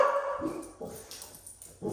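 Pet dogs barking indoors, a few short sharp barks and yips spaced across a couple of seconds, moderately close and alone without talk.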